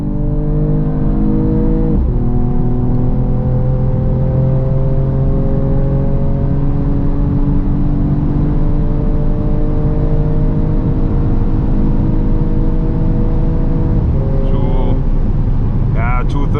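A Mercedes-AMG GT 53 four-door in race mode accelerates hard on the crowded autobahn, its engine note climbing steadily through gears with clear shift breaks, loud and continuous throughout from inside the car.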